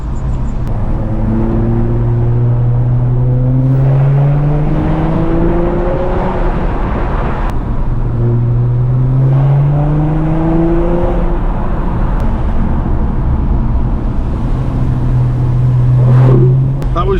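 A diesel Nissan GT-R, Jamie Wrigley's car, revs hard and drives past on a road near Newquay, its engine note climbing through repeated gear pulls, swelling loud and then fading before a second rising pass.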